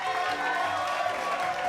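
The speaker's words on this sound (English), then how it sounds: "a big round of applause from the audience" An audience applauds after a magic trick in which bottles multiply, giving a brief, steady wash of clapping with faint crowd murmur.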